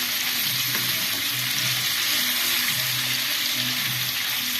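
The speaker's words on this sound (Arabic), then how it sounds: "هنقلب بالشكل كده الفلفل معايا" Peppers sizzle and fry steadily in the oil left from cooking liver, with continuous close crackling and occasional stirring scrapes throughout.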